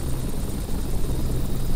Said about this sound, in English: Let me see if I can get the helicopter to behave itself.